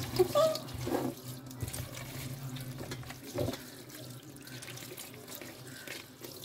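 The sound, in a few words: washing dishes under running tap water in sink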